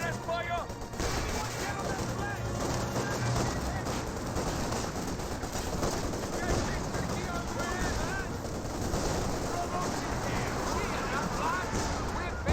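Rapid gunfire and scattered shots from a Company of Heroes 2 battle with commandos, fusiliers, flamer engineers and an MT-34, crackling steadily throughout under continuous commentary.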